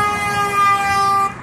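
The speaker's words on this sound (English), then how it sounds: "Thank you very much for the honk." A sustained horn blast from a vehicle on a city street in Montreal's Villeray area, loud and close, holding a steady tone for over a second before cutting off abruptly, with no talking.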